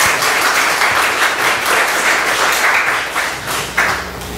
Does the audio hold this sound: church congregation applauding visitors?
yes